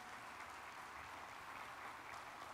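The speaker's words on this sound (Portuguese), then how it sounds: "E eu quero que você dê um aplauso ao Senhor pela sua vida." A church congregation applauds, a steady dense wash of clapping from many hands that holds even and fairly loud throughout, with no voices rising above it.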